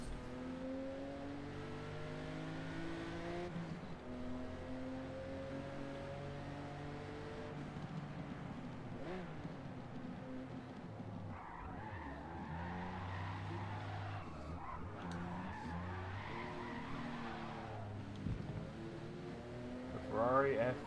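Ferrari F50 racing car in the Forza Motorsport racing game, its engine revving and shifting through gears with rising and falling tones and brief tire squeal, heard under quiet talk.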